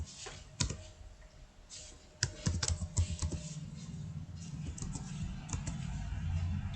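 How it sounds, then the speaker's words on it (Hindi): Typing on a computer keyboard while formatting tab stops in a paragraph, with irregular key clicks and occasional louder taps, close and moderately quiet, no voices. "अभी जो मैं टाइप कर रहा हूँ वो लेफ्ट से राइट की तरफ जा रहा है"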